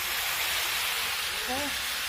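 A broad, steady hiss of food sizzling in a hot pan fills the whole stretch, with a faint tonal squeak near the end.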